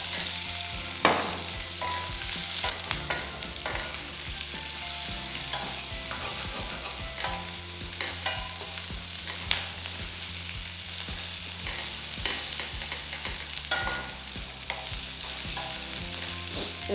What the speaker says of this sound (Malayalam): ഇത്ര സാധനം ഒന്ന് സോട്ട് ചെയ്തെടുക്കാം.